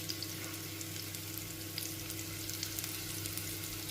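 Food deep-frying in hot oil gives a steady, dense sizzle with a fine crackle throughout, held at an even level without pause and with no voices.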